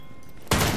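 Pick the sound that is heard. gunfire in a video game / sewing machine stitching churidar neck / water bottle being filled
gunfire in a video game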